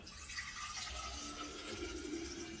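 Water pours steadily into a container to make water kefir, roughly half a litre or a bit more, a continuous close splashing rush lasting a couple of seconds with no talking.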